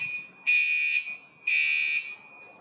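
A fire alarm sounds in shrill, steady electronic bursts, two loud pulses about a second long separated by brief gaps, ringing alone and close.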